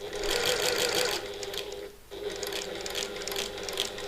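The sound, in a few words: sewing machine stitching a bag seam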